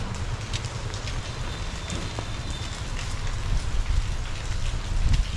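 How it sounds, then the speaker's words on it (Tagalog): Steady rain in Sapa, Vietnam, patters and hisses across the whole stretch, a dense broadband wash with a low rumble underneath, no voices. "Umuulan pa rin."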